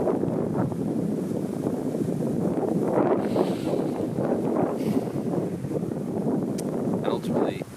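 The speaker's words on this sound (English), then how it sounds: "If you can hear the wind" Steady outdoor wind rumbles against the microphone throughout, a constant broad buffeting roar with faint background sounds and no spoken words.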